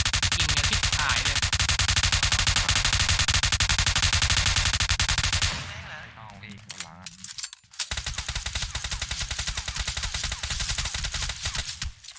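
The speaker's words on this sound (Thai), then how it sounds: "เสียงปืนได้ยินเสียงปืน" Rapid automatic gunfire in the mobile battle royale game PUBG Mobile on the Sanhok map, loud dense bursts that break off briefly midway and then resume, with voices talking over the shooting.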